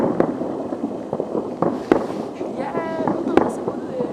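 Distant New Year fireworks seen from Bradlo hill in Slovakia's Strážovské vrchy, with scattered sharp bangs and pops over a few seconds while people talk nearby.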